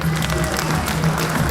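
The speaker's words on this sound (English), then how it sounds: "A round of applause for them." Audience applause at a fa'afafine pageant in Auckland, continuous clapping with a low hum underneath, fairly loud and sustained throughout.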